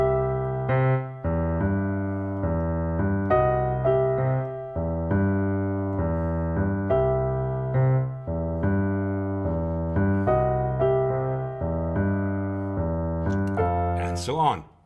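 Piano in a New Orleans style, the left hand driving a steady rolling bass pattern under right-hand chords, played close and loud for the whole stretch with regular repeated attacks, ending in a brief noisy burst.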